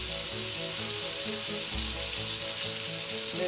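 Prawns sizzle steadily in burning, browning butter in a pan, a loud continuous frying hiss with a low bubbling pulse running underneath throughout.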